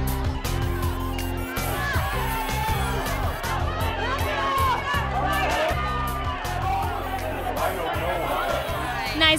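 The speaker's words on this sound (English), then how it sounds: "As you can see, the crowd's excited." An excited crowd at a red carpet awards event, a dense, continuous babble of chatter and shouts with scattered clicks and cheers, close and loud throughout.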